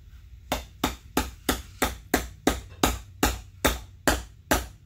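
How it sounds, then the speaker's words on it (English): A big hammer strikes a wheel bearing, driving it into place during a dirty wheel bearing installation: about fourteen loud, evenly spaced metallic blows, each ringing briefly, with no talk. "Big hammer."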